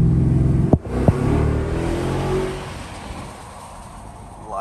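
Mercedes-Benz S550 coupe with a V8 exhaust given a little gas: a deep, throaty exhaust note swells briefly after two sharp clicks, then settles back to a low rumble close by.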